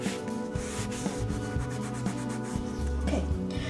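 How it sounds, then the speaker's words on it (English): A cloth rubs paper collage pieces flat against a backing in short, close, scratchy strokes, quiet and repeated without talk. "I'm going to use my cloth and burnish it down."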